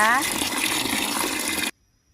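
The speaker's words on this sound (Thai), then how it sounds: "ล้างน้ำทิ้งหลาย ๆ น้ำหน่อยนะคะ" Water pours and gushes steadily while pickled Oroxylum indicum pods are rinsed, a loud continuous splash that stops abruptly, leaving near silence.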